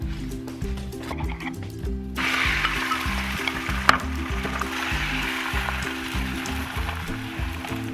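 A thin egg crepe sizzles in a frying pan with a steady, close hiss, with faint rhythmic background music underneath.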